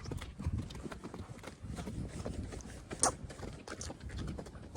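A ridden horse's hooves clip-clop in a steady rhythm on the ground, fairly faint and close, with a brief sharper sound near the middle.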